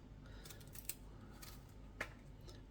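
Strawberries for a preserve are trimmed with quick, faint snips, two sharper clips standing out against a quiet background.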